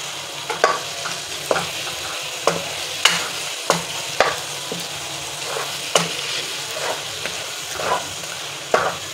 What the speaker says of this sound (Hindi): इसे 5 से 6 मिनट हम फ्राई करेंगे।